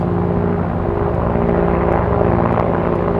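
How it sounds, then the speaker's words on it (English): A loud helicopter passes overhead near an international airport, giving a steady, dense rotor and engine roar that fills the whole stretch without letup. No talk is heard. "Holy cow, that is a loud helicopter flying over."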